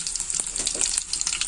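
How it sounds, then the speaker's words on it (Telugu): Garlic sizzling in hot oil in a pan while beerakaya curry is being cooked, a bright steady crackle with small spitting pops, close and fairly loud, no talking. "వెల్లుల్లిపాయ వేసుకోవాలి. ఇది కొంచెం ఫ్రై అయిన తర్వాత"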